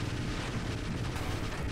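Dense, continuous rumbling explosions from mines going off in a ship-battle video game, a steady heavy booming wash with no pauses.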